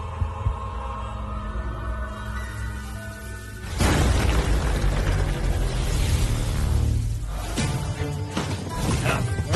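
A sudden loud boom bursts in after a low steady hum, followed by a sustained roaring rumble that lingers for several seconds.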